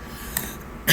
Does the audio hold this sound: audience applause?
no